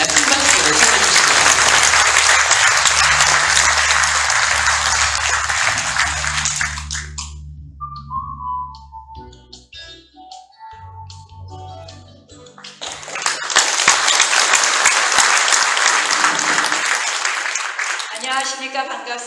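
A crowd applauds loudly at a 40th White Cane Day ceremony for visually impaired people, welcoming a speaker. The clapping fades as a voice speaks briefly, then rises again in a second full burst.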